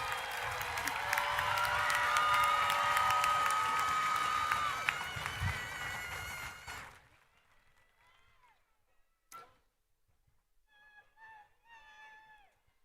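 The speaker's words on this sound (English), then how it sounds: "give a round of applause for our honor students" A crowd at a high school commencement applauds and cheers loudly for several seconds, then it cuts off abruptly, leaving quiet room noise and brief scattered voices.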